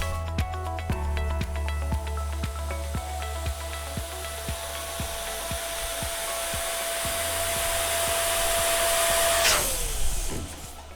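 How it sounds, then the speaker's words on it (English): An electric air inflator steadily blows air into an 18-inch balloon for party decorating, a continuous whirring hiss with faint rhythmic ticks that grows louder until the motor cuts off near the end. "I'm gonna go ahead and just air it up with my machine."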